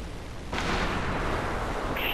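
Mercenary gunfire in a video game: a sudden loud burst of shots erupts about half a second in and rattles on continuously, broad and booming, with nobody speaking.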